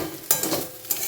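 Fried rice with potato, egg and onion stirred in a pan, giving soft scraping strokes with two sharper clanks over a low sizzle, close and brief.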